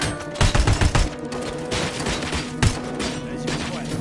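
Rapid bursts of gunfire in the video game Robocop Rogue City, dense repeated shots with heavier thumps, loud and continuous under the game's background sound.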